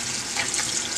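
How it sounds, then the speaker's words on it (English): Warm tap water running steadily over hands being washed at a sink, a continuous close hiss and splash lasting about a second, with no voices. "wash your hands with warm water and antibacterial soap"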